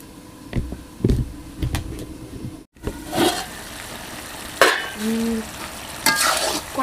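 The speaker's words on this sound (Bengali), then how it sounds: "আচারটা নেড়ে চেড়ে দেওয়া হচ্ছে।" Olive pickle with jaggery being stirred and tossed in a covered wok (kadai), with scraping spoon strokes and low frying sizzle, lid noise midway, close and moderately loud.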